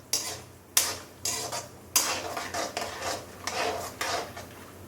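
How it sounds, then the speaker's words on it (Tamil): Cashew nuts roast in a pan and are stirred with a spoon, giving repeated scraping, rattling strokes at a steady pace, close by with a low background hum. "இப்போ இந்த ஸ்டேஜில் நம்ம முந்திரி பருப்பை போட்டுக்கலாம். அது வறுபடட்டும், நல்லா வறுபடணும்"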